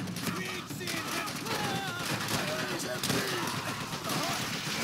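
Enemy machine gun fire in the World War II game Call of Duty: World at War, rattling bursts in a busy battle mix with shouted voices over the din.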